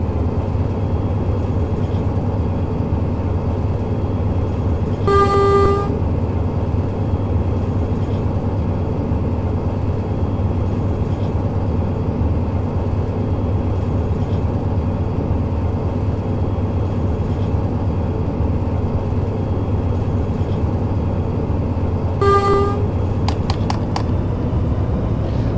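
A BR 218 diesel locomotive accelerating gently in Train Simulator 2020, a steady low engine drone and rumble throughout, broken by two short tonal signal beeps, no voices.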